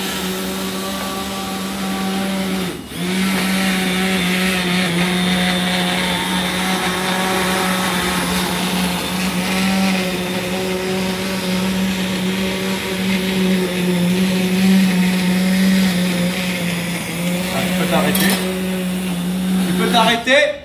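A blender whirs loudly and steadily, puréeing pumpkin soup with a whole lobe of foie gras, its motor drone running for about twenty seconds with a short dip near the start.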